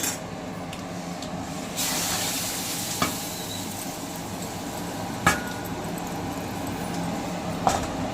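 Chickpeas for a tempering sizzle in hot oil in a pan while puja food is prepared, a steady frying hiss with a few sharp spatter pops and stirring clicks scattered through it.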